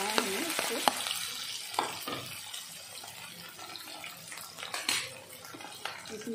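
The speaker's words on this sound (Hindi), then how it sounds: "सो इसमें जो है हमने ऐड कर दिया अनियन। प्याज को ऐड करके हल्का ब्राउन कलर करना है हमें इसको।" Onions frying in a kadhai for kadhai chicken, a steady crackling sizzle with intermittent scraping and clinks as a spatula stirs them, close and moderately quiet with no talk.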